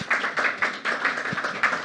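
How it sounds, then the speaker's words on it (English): Audience applause at a panel discussion on the changing role of the CFO, steady clapping from many hands filling the room, moderately loud and continuous. "the clapping is very much for them"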